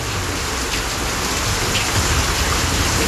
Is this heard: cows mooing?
no